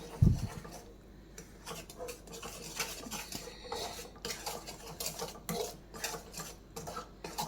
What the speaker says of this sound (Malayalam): കണ്ടിന്യൂസ് ഇളക്കണം, കൈയെടുക്കാതെ ഇളക്കിക്കൊണ്ടിരിക്കണം